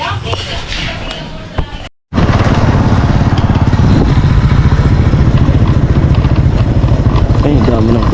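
A motorcycle engine starts up and runs loudly close by, a rough rapid putter after a brief silence, with faint background sounds before it starts.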